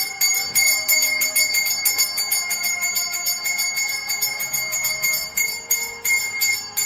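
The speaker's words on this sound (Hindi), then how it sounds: "घंटी की आवाज सुनाई दे रही होगी," A bright puja bell rings steadily in quick repeated strokes, its clear metallic tones sustaining and overlapping, loud and near.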